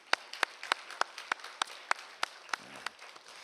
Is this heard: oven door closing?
no